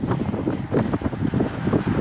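Strong wind buffets the microphone in gusty, rumbling waves during a group bicycle ride, loud and continuous with no voices.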